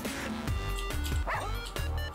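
Doberman dogs in the video game Russian Subway Dogs bark in a rapid series of sharp, loud yips and woofs, some whining, over busy game sound.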